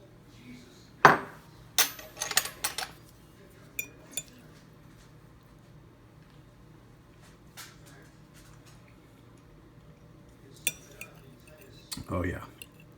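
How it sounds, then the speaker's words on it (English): Cutlery scrapes and clinks against plates while hamburger and eggs are dished up, with a few sharp taps in the opening seconds, then sparse, faint knocks over a quiet room. "Let me get it plated up."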